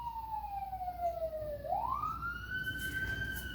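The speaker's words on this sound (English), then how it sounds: "Sorry if you're hearing sirens go by." A siren wails with a falling then rising pitch as it passes by, moderately loud, with steady traffic rumble underneath.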